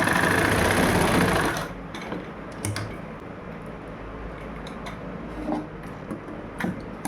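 A sewing machine runs fast and loud while stitching a fine seam on a kurti, then stops; quieter handling and rustling of the fabric follow, with a few light clicks.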